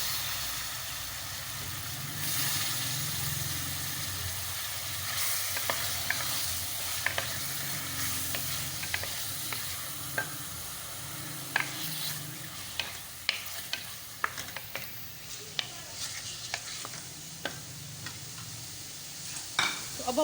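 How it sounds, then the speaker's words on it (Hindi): Chicken jalfrezi ingredients frying in a pan, a soft ongoing sizzle broken by scattered clicks and scrapes of stirring, growing more frequent and sharper toward the end. "यहाँ पे जो हम लोगों ने इसको भूना शुरू किया है, इसको फ्राई कर रहे हैं हम लोग।"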